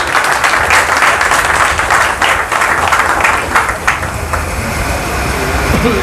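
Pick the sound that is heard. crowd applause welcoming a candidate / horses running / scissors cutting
crowd applause welcoming a candidate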